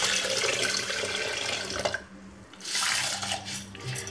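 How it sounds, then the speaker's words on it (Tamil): Water poured over little millet (samai) rice and urad dal set to soak for idli, a steady close splashing stream that briefly pauses around the midpoint, then resumes. "இப்போ இதை தண்ணியை ஊற்றி ஊற வச்சிடலாம்."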